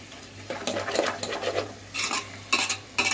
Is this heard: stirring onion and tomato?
yes